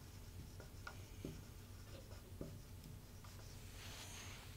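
Pen or marker scratching faintly across a surface while writing out a geometry proof, with soft intermittent strokes and taps over a steady low hum, no voice.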